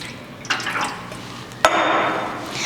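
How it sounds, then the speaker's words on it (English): Milk pouring onto a plate in a home kitchen: a soft liquid splash, then a steady trickling pour that goes on to the end, with a sharp clink partway through. "Pour a thin layer of milk onto a plate."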